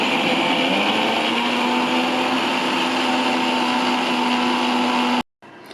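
Electric blender pureeing tomatoes into a paste, a loud steady whine that holds for about five seconds and then cuts off abruptly.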